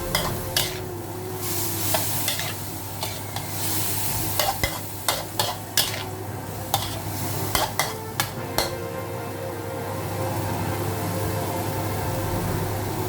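Bean sprouts are stir-fried in a pan under a constant loud sizzle, while a spatula scrapes and clanks against the metal in quick irregular strokes that fade toward the end.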